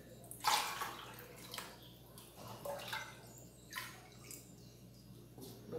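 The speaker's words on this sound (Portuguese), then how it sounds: "Deixa eu terminar de encher aqui." Tap water pours into a large container to make about eight litres of homemade liquid detergent from grated bar soap, a close, splashing rush that surges and eases in uneven bursts with faint drips.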